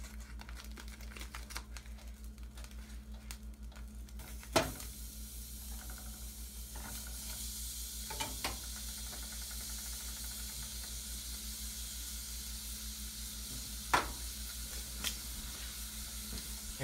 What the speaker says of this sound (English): I'll cook up our second patty here.